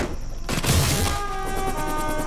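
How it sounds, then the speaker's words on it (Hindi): Heavy gunfire in a movie battle scene opens with a loud burst and roar, then continues as a dense, sustained barrage with rapid repeating shots close by. "एनिमी की बहुत हैवी फायरिंग हो रही है सर"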